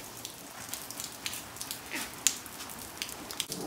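Heavy rain pours down in Texas, a steady hiss of falling water broken by scattered close drips and taps on nearby surfaces, fairly soft overall with no talk.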